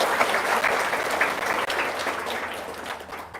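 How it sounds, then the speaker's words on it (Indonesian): An audience claps at a religious talk about charity and umrah, a dense burst of applause that is strong at first and gradually thins and fades toward the end. "Tepuk tangan dong."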